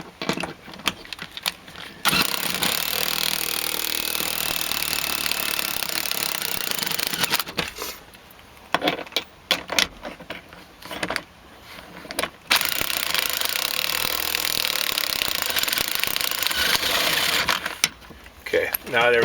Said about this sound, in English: So now we're going to torque down the rear bolts.